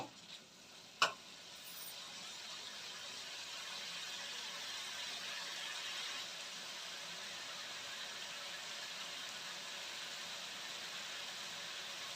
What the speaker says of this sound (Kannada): ಸ್ವಲ್ಪ ಟೊಮೊಟೊ ಎಲ್ಲ ಚೆನ್ನಾಗಿ ಬೇಯಿ ಎಣ್ಣೆಲಿ ಈ ರೀತಿ ಚೆನ್ನಾಗಿ ಬೇಯಬೇಕು ಒಟ್ಟಿನಲ್ಲಿ